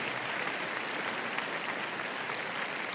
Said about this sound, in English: The audience burst into wild applause.